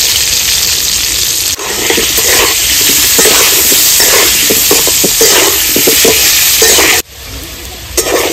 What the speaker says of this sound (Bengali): আলুটা আমি সুন্দর করে ভেজে নিয়েছি